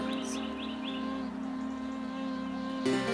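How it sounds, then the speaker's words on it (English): Birds sing on a morning outside a hotel room in Delphi, Greece, with repeated bright chirps over a steady low hum, ending in a brief louder rustle. "Listen to the sound of the birds."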